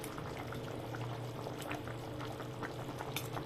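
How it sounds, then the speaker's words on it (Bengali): Bengali koi fish curry with new potatoes and tomato simmering and being stirred in a pan, a steady close bubbling sizzle with soft scraping, no talk. "এখন আবার একটু নাড়াচাড়া করে নিই"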